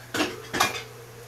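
A pot lid set onto a pot on a stovetop, giving two quick metallic clanks close by, with no talking.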